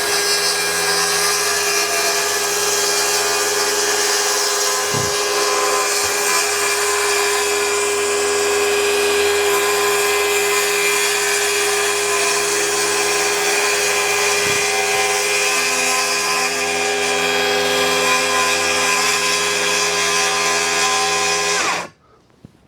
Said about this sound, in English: set my saw to just barely cut through that bottom layer